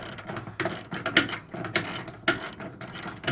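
A ratchet wrench clicks in quick repeated bursts as it tightens a bolt deep inside a Samsung Bubble Wash 7.0kg front-loader washing machine, close and fairly loud with short pauses between strokes and no talking.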